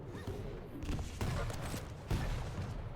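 Rocket launcher fire during a Quake Champions grand final match, with several loud booming blasts spread through the clip over dense, busy game noise and a faint voice in the mix.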